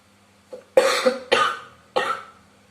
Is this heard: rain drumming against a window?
no